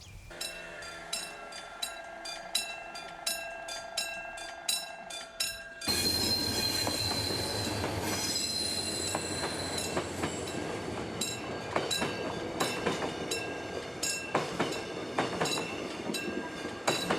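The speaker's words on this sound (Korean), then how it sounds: "보성에 기차가 지나가는 것을 잘 모른다." A train rolls through Boseong in rural South Jeollanam-do, first a rhythmic clickety-clack of wheels over rail joints, then a louder, denser roar with squealing wheels as the cars pass close by, steady and without voices.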